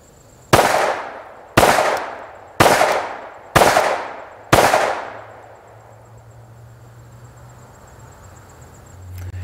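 Five 9mm rounds fired from a Springfield XD-M pistol at a leisurely cadence: loud sharp reports about one second apart, each with a decaying echo, then a quiet outdoor tail.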